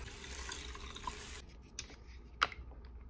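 Two cups of water pour into a container of rice for horchata, a short rushing stream that stops abruptly, followed by a couple of drips and light clinks.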